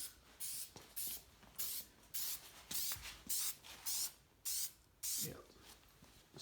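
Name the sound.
spraying red filter oil onto an air filter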